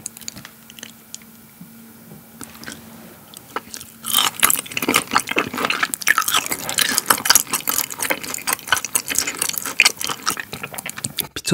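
Close, wet chewing of raw beef and raw liver dipped in seasoning sauce at a Korean mukbang meal; quiet at first, then from about four seconds a dense run of loud, crisp mouth clicks and smacks, with no talk.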